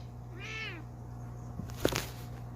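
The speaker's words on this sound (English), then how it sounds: "And there's the cat." A house cat gives one clear, short meow near the start, moderately faint over the steady hum of aquarium equipment, followed by a few small knocks.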